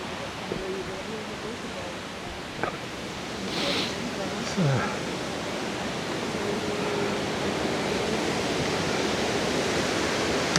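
A river pours over a waterfall in Scotland, heard from near the top of the falls as a steady, broad rushing roar that builds slightly louder, with a few brief faint sounds on top.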